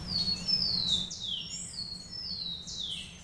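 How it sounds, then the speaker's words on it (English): Birds singing in a tree in the evening, a few clear high whistled phrases and short chirps in close succession over a low, steady background hum. "There's a bird up in the tree here, honey."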